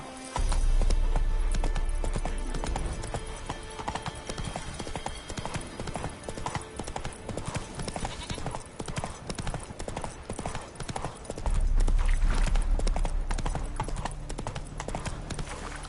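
Roach, Geralt's horse in The Witcher 3, gallops at a steady pace, hooves clip-clopping continuously and loudly with a brief slowdown mid-ride, under an ambient game soundtrack.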